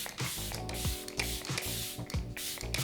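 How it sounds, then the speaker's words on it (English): Quick bursts of a spray bottle hiss close by, several pumps in a loose rhythm with short pauses between them. "I will definitely do a setting spray"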